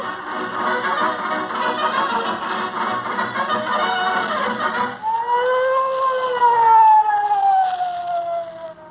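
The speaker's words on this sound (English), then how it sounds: "We always approach the scene of a crime blowing the siren, Mahoney." A police siren wails steadily, loud and near, first in a rapid warbling pattern and then in long rising and falling tones.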